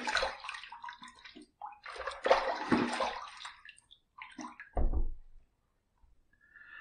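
Tap water running and splashing into a sink as a face is rinsed after a wet shave with bay rum shave soap, bursts of close gushing and sloshing that stop and start before falling silent.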